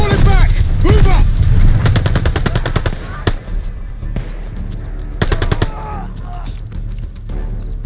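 Rapid machine-gun bursts and single rifle shots crack through a World War II video game battle in France, 1944, loud and close with dense overlapping fire, brief lulls, and shouted voices amid the fighting.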